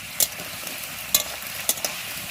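Potatoes fry in a pan under a steady, moderate sizzle, with a few crisp clacks of a utensil against the pan spaced across the moment; close by, no voices.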